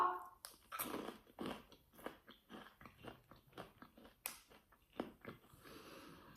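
Close, distinct crunches as someone chews a crunchy Coca-Cola flavoured snack, a dozen or so bites and chews in an uneven rhythm, quiet overall, with no speech.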